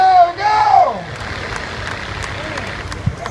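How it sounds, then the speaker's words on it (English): Applause and cheering from a crowd at a county fair truck pull rise loudly and then fade into a steady, softer hum of crowd noise, with a voice over a loudspeaker audible early on. "Big round of applause."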